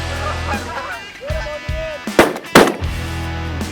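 Geese honk in a few nasal, rising calls during a goose hunt in early season, followed by two sharp, loud bangs and a continuing low rumble of background noise.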